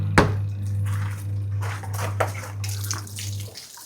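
Water gushes steadily and fairly loudly for hand-washing clothes, as if pouring into a tub, with splashing and a constant low hum throughout, ending abruptly.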